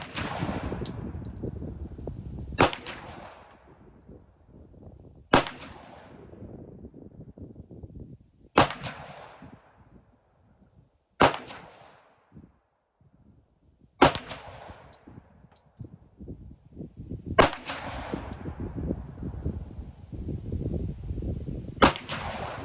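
Glock 20 Gen 5 MOS pistol firing 10mm 200 grain jacketed hollow point rounds: loud, sharp shots spaced a few seconds apart, each with a ringing outdoor decay, no talking.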